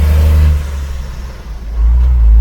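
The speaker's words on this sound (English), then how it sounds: "You can hear the cars going by." Cars rumble past close by on a road in Zipaquirá, Colombia, a loud engine roar fading then swelling again as another vehicle approaches.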